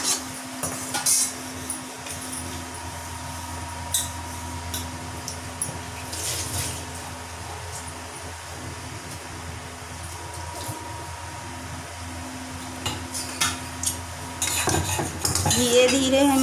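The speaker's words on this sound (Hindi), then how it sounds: "तो चलिए अब हम इसे फ्राई कर लेते हैं।" A metal utensil clinks and scrapes against a pan as crispy layered aloo patties fry, with a faint low sizzle and a steady hum behind the clatter.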